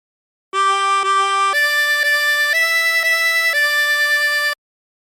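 Harmonica in second position playing a short phrase of Twinkle Twinkle Little Star, single sustained notes in steady steps, clear and close with no voices.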